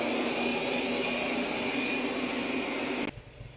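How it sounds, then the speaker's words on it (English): Roborock S7+ robot vacuum cleaning a house gives a steady, loud whirring drone with a fan whine that holds evenly, then cuts off abruptly near the end, leaving a quieter room. "So while Henry's cleaning the house"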